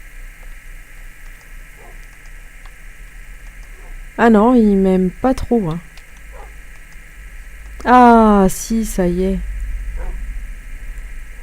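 A tamed wolf in Minecraft gives two short bursts of yelping barks and whines, separated by quiet, while someone talks in French over a low game hum.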